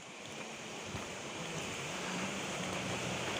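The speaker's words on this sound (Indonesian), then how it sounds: "Dan kita akan melewati sungai dan itu ada air terjun" Steady broadband rush of a river and waterfall beside a mountain trail on Gunung Slamet via Guci, continuous and fairly loud with a faint low hum underneath, no talking.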